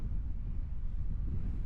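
A strong headwind buffets the microphone while cycling, a dense, low roaring rush that stays loud and steady throughout with no voices.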